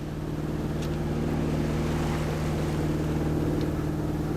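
A sailboat runs under its auxiliary engine in very light wind near Cambridge Cay, Bahamas, giving a steady, loud, low droning hum with a constant pitch and a faint wash of air and water over it.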